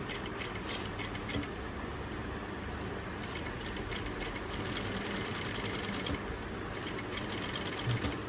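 A sewing machine stitches a thin blouse drawstring, running in a steady continuous whir with brief pauses between bursts and no talking.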